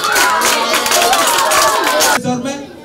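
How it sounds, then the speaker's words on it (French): Congregation applauding during a Sunday church celebration in the diocese of Porto-Novo, loud crowd clapping with chatter and a sung tone, cutting off abruptly near the end. "Alors on applaudit pour lui."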